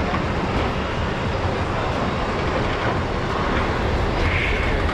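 A Thai passenger train rumbles steadily along the Death Railway toward Kanchanaburi, a continuous broad roar of carriage and track noise heard from on board, with no speech.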